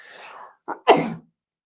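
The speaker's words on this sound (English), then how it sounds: "The sneeze stays in, but I moved away from the mic." A single close sneeze bursts out after a soft breathy intake, short and sharp, followed by silence.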